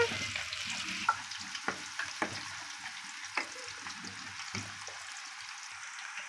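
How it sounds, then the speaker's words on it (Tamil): Raw jackfruit pieces dropped into hot oil for chips, a steady fizzing sizzle with scattered clicks and pops from the pan, near and moderate, with no talk. "எண்ணெய் இந்த மாதிரி சூடான உடனே போட்டு பொரிச்சு எடுத்துடலாம்"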